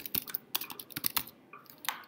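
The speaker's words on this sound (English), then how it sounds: "And then you type whatever you want over there." Notes are typed on a computer keyboard, an irregular run of light, close key clicks in quick bursts with short pauses, quiet and alone without talk.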